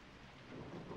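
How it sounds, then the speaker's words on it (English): A distant thunderclap rumbles low and quiet beneath falling rain in the horror game Corpse Party Book of Shadows, building slightly over a single second. "jumping every now and again whenever another thunderclap sounded"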